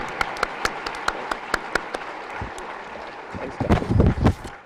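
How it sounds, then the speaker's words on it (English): Sparse, separate claps at first build into a short burst of audience applause near the end, at a school awards evening. "Big hand of applause for them."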